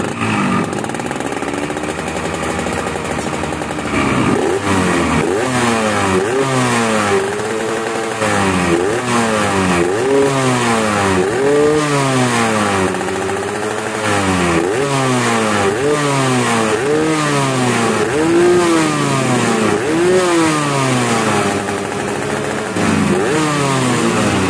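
A Yamaha RX King motorcycle with a drilled-out exhaust packed with glasswool revs repeatedly, its two-stroke engine rising and dropping in a steady rhythm of loud, close blips after a quiet start.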